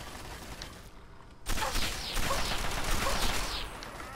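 Gunfire from enemies hits the player character in the Fallout 3 video game, a dense burst of rapid shots starting abruptly after a brief quiet moment and continuing steadily for several seconds.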